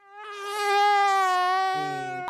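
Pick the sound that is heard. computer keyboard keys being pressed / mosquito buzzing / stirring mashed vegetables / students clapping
mosquito buzzing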